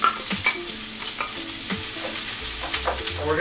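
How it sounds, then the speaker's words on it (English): Chopped Spanish onion sizzles and crackles in hot olive oil in a pan for lasagna, a close steady frying hiss broken by scraping stirs. "So once we get our oil up to heat, we're gonna add one Spanish onion."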